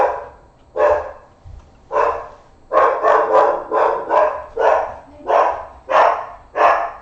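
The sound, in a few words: dog barking at the mail truck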